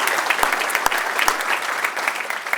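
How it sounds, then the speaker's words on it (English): Steady, dense applause from an audience at a garden party, clapping for the staff who served dinner; continuous and fairly close, with a few sharp individual claps standing out for about two and a half seconds. "can we get a round of applause for our staff that served us tonight?"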